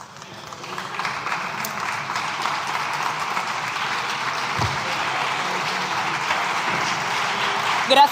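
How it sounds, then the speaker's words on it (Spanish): Parliamentary applause fills the chamber, a dense steady wash of many hands clapping that builds within the first second and holds at an even level throughout, with a brief louder burst near the end. "Yo creo que deberíamos dar un aplauso"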